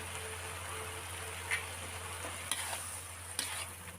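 Wild sweet leaves stir-fried in a pan with oyster sauce and sugar, a steady low sizzle under a few sharp spatula scrapes and clacks against the metal, close up with no one talking.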